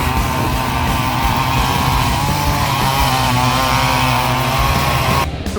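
Quad ATV engines racing on a track, a loud continuous buzzing engine roar held at full throttle throughout, cutting off sharply at the very end.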